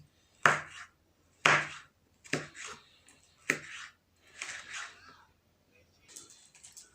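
A knife chops red peppers sharply on a board, several distinct cuts spaced about a second apart, then quicker, softer thin slicing, close up with no talking.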